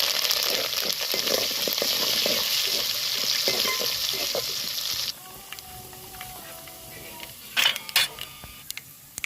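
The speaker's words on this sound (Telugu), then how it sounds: "తాలింపు అయితే మంచిగా వేగిందండి" Loud, steady sizzle of spices, garlic and curry leaves frying in hot oil for about five seconds, then it drops away to a quieter background with a few sharp clicks.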